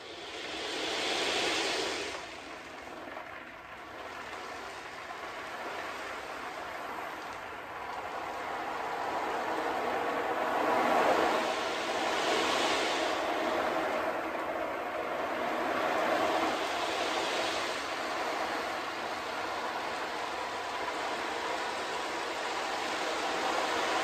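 Cardboard pizza box ocean drum tilted slowly to imitate waves, beads or grains washing across in soft, hissing surges that swell and recede several times, alone and fairly quiet.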